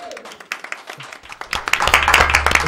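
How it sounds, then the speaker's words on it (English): Clapping rises from a talk-show audience for a guest, starting sparse and quickly swelling into louder, denser applause, with a few voices mixed in near the start. "a round of applause for Audrey."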